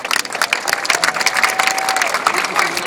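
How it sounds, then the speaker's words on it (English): An audience at a kidney race awards ceremony in the UAE claps and applauds, a dense burst of hand claps with light crowd noise, fairly loud and sustained for a few seconds. "Let's give him a nice round of applause."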